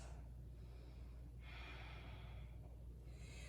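Slow, deep breathing during a yoga pose, a soft airy inhale and exhale against a low steady background hum, faint and close.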